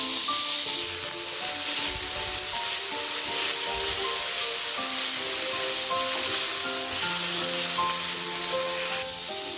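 Cauliflower florets and potato pieces fry in hot oil for a poha pulao, giving a steady, close sizzle with occasional stirring scrapes throughout, and no talking.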